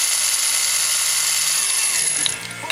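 A power drill cuts out the wheel posts on a Nissan Skyline, a loud, sustained high whine that stops abruptly, followed by a few small clinks.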